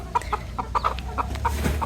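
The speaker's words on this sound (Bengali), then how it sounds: "এই মুরগিটার নাম হচ্ছে কুতুপায়া মুরগি" Kutupaya chickens, a short-legged breed, cluck in a steady run of short repeated calls, moderately near, over a low rumbling background with no talking.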